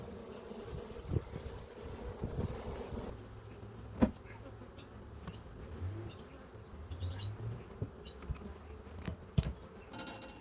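Honey bees buzzing around an open, queenless hive during a beekeeping inspection, a constant soft drone with individual bees passing close, plus occasional knocks and handling sounds.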